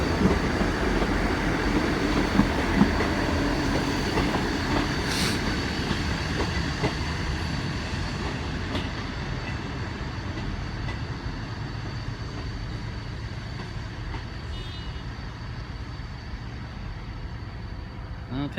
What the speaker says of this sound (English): Looks like it might be a Great Western Railway service to London Paddington coming in shortly.